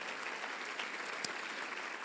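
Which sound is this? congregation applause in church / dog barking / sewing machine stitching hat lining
congregation applause in church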